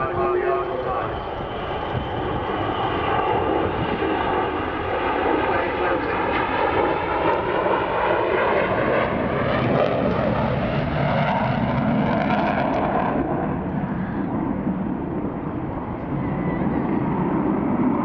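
Avro Vulcan bomber jet engines at Dunsfold, a loud continuous roar with a rising and falling whine as the aircraft passes, filling the whole stretch, with someone talking over it.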